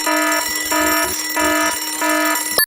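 An electronic alarm beeps in a regular on-off pattern, four loud harmonic tones in a row, ending with a sharp abrupt cutoff.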